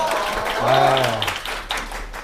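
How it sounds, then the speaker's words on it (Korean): Students at a preparatory orientation meeting for incoming high-school freshmen clap in a room. The clapping is a fairly loud, continuous patter under a voice speaking over it. "뭘 했다고 박수를 쳐"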